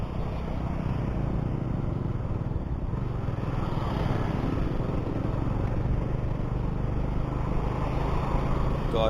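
A Royal Enfield motorcycle riding a mountain road toward Manali gives a steady, loud engine drone with a continuous rush of wind, holding an even level throughout with no voices.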